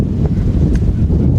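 Strong wind buffeting a microphone at a high school baseball field, a loud, continuous low rumble with gusty swells and a few faint knocks, no speech.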